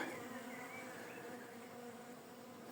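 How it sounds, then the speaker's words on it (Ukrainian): Bees humming near a hollow oak tree where a swarm has settled; a steady, dense outdoor drone, continuous and fairly close, with no talking. "Так що почув гул бджіл."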